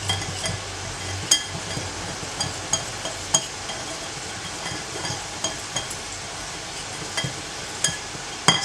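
Seasoning powder and salt being mixed into homemade chicken nugget ingredients, with a steady scraping stir broken by sharp clinks of a utensil against the bowl at irregular intervals, close and fairly quiet.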